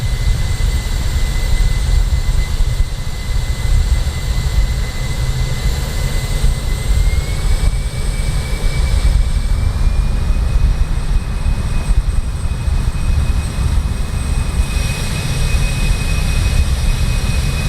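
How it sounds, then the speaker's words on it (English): Jet engine of a plane in Microsoft Flight Simulator, just landed at a bush strip in Uganda, idling in a loud steady roar with a high whine that shifts pitch slightly partway through; no talk. "We've just landed at a bush strip with a jet"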